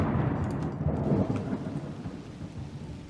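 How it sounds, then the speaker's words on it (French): Rain and thunder summoned by the player in The Universim god game, a dense steady rainfall with rumbling thunder rolling through, loudest early and easing slightly toward the end, with no speech. "On va faire pleuvoir."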